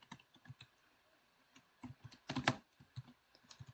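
Close, quiet clicks of a computer keyboard as code is typed for a Python clicker game, coming in short irregular bursts with a denser cluster of keystrokes midway.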